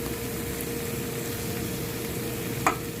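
Squid sautéing with chili and black pepper in a pan, a steady soft sizzle and hiss close by with a brief clink of a utensil near the end, no voices.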